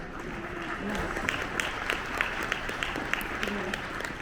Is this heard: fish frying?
no